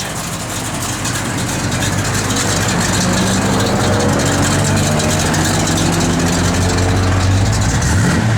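A 1969 AMC AMX V8 with a mild cam and Mallory ignition idling steadily, a loud, close, low lumpy rumble with the revs rising near the end.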